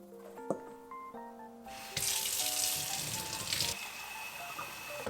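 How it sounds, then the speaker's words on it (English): Warm water runs in a steady stream into a bowl of glutinous rice flour, a bright continuous splashing pour up close that begins after a quiet stretch of soft music and keeps going to the end. "we're gonna gradually add our warm water until you can form a rough ball"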